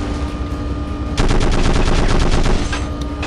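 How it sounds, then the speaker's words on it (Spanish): Machine-gun fire in the war video game Conflict: Desert Storm 2 rattles in one loud rapid burst of about a dozen shots, set against quieter game ambience. "¡Nos disparan!"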